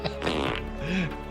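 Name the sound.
fart sound effect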